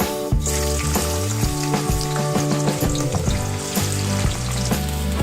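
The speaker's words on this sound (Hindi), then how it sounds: "ये हमने कढ़ाई में ऑयल डाला है, अब इसमें प्याज डालेंगे" Onions frying in oil in a kadhai give a loud, steady sizzle close up, with metallic clinks of a utensil against the pan recurring throughout.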